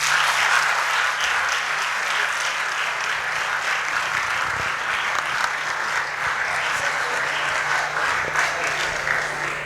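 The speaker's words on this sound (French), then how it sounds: "Est-ce qu'on peut acclamer pour lui?" An audience applauds a student at a school event, steady dense clapping that continues for the whole stretch, loud and close, with a faint voice underneath.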